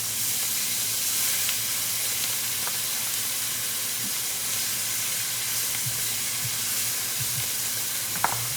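Steaks sizzle steadily in a hot pan for a quick home dinner, a continuous frying hiss with faint clinks of utensils and brief stirring noises, fairly close and without talk.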